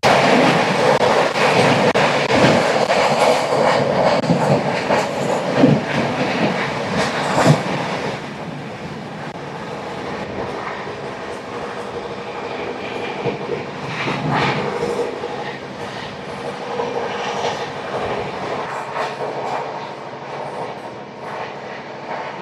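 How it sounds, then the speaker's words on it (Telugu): Express train 19307, running from Indore to Himachal, rushes past on the opposite track. Its loud, continuous rumble and rattling wheels fade a little partway through, then keep clattering steadily with no voices. "మనకు ఆపోజిట్లో 19307 వస్తుంది. ఇండోర్ జంక్షన్ నుంచి ఉన్న హిమాచల్ వరకు వెళ్ళే ఎక్స్ప్రెస్."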